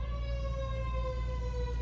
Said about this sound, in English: Nothing like a fire truck to go by during your video.